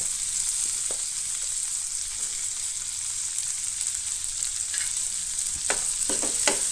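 Onion going into a hot frying pan for street-style masala pav, a steady close sizzle of frying with a few sharp stirring scrapes toward the end, no talk.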